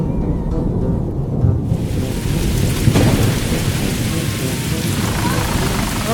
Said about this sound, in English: Suddenly, the sky rumbled with thunder,